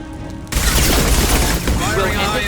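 Dense, loud burst of rapid gunfire from the Mass Effect 2 video game, a continuous sustained volley of shots and impacts starting abruptly and running throughout, with game voice chatter mixed in.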